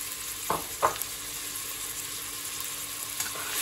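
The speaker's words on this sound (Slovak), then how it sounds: "Keď bol olej dostatočne rozohriatý, pridal som nakrájanú cibuľu." Chopped onion sizzling in hot rapeseed oil in a pan, a steady close frying hiss with a couple of brief stirring clicks near the start and no voices.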